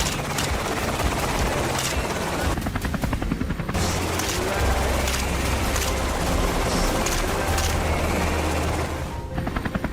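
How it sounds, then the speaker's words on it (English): Rapid bursts of gunfire crackle across a field at fleeing wild boars through a dense, roaring mechanical din, with steady heavy noise filling the whole stretch and a deep low rumble underneath. "Gunfire thundered across the field,"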